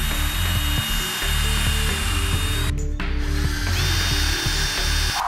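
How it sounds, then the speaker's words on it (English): A steady, loud power drill whirs continuously while boring string holes into a wooden cigar box guitar, its motor tone wavering slightly with brief dips as the bit works through the wood. "what we need to do next is drill holes for the strings"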